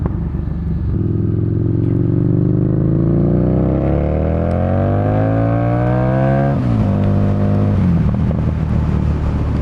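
A 2018 Harley-Davidson Street Rod 750 motorcycle engine roars very loudly and close, revving up with a rising pitch through the gears, then dropping sharply before steady running resumes.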